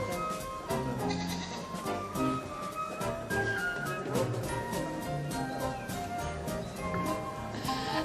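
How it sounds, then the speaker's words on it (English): A kid goat bleats on a TV game show set in 1980, loud wavering calls running almost continuously over a busy, dense background. "is a kid goat."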